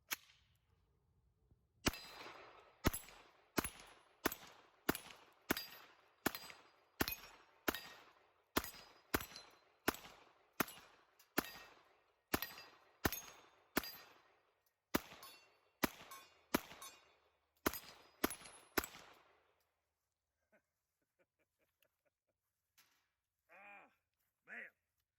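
A CZ Scorpion Evo3 S1 carbine runs through a 32-round magazine in rapid semi-auto shots, about twenty sharp, loud, evenly spaced cracks, then a pause and faint handling clatter.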